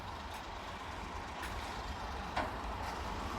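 A hi-tech beach cleaning truck works on Dolomite Beach with a steady, fairly distant engine rumble, a brief hiss partway through, and no talking.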